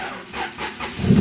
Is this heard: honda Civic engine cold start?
yes